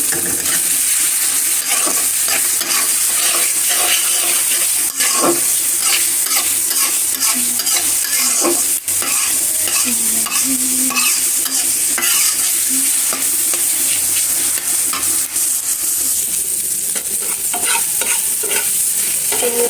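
Bay leaves crackle and sizzle in hot oil in a pan as Bengali home cooking begins, with steady loud frying hiss and occasional stirring scrapes throughout, no voices.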